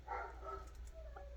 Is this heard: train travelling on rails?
no